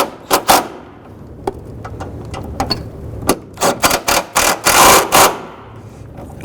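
An impact gun hammers in short bursts, then longer rattling runs, tightening two forward-mounted 14mm bolts on a transmission mount of a 2007-2011 Honda Civic, with clanks and shop noise between bursts.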